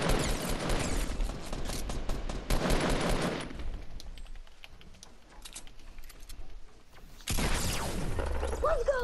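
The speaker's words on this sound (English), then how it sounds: "Zach, shoot at him!" Rapid automatic gunfire in Fortnite comes in loud dense bursts, then a quieter stretch with faint sounds, then another loud burst, mixed with brief voices.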